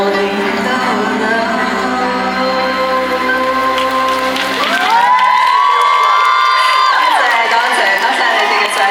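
Loud crowd cheering and shouting at a busy Lunar New Year celebrity appearance in a Kuala Lumpur mall, rising into a sustained roar of high voices and claps over a steady background din.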